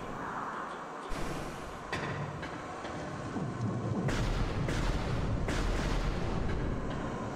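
Booming blasts of arm-cannon fire in Metroid Prime, several heavy shots over a steady rumbling game ambience, loud and close with no talking.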